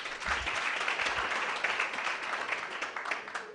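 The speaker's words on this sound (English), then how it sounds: "Can we clap for Anne again?" Audience at the Kenya Power Expo clapping for Anne, a brisk, fairly close patter of many hands that runs unbroken for a few seconds.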